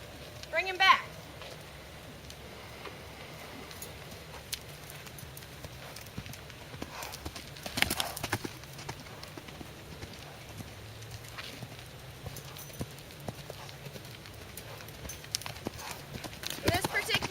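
Horse hooves thud and clip-clop on the footing of a round pen during a training session, faint and irregular under someone talking, with a few sharper knocks scattered through.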